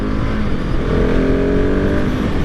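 A 2023 KTM 690 SMC R single-cylinder supermoto accelerating from a rolling stop, its engine note loud and close with a continuous rising drone and rough pulsing throughout.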